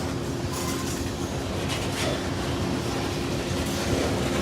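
Southbound freight train M513 rumbles past trackside in Indiana or western Kentucky, a steady loud roar of rolling wagons with no break and no voices.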